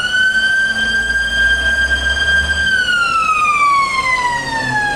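A fire engine's siren wails loud and continuous during a hospital fire drill, its steady tone holding before gliding slowly downward as the vehicle arrives, over a low engine rumble.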